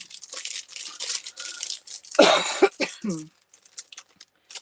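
One loud cough bursts out amid rustling and crinkling noises, followed by a brief voice and then near quiet.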